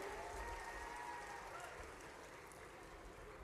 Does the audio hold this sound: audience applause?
yes